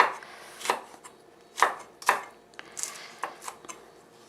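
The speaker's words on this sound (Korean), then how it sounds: "이렇게 어슷어슷 썰어 주시면 됩니다. 홍고추도 썰어 주시면 돼요." A knife chops red chili pepper on a cutting board with about a dozen sharp, close knocks in an uneven rhythm and short gaps between them.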